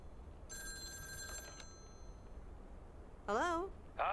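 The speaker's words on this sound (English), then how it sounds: "I'm guessing we're getting a phone call." Telephone ringing in the video game Lake: a steady electronic ring with bright tonal bursts sounding once near the start, followed later by warbling tones, with faint background hum in between.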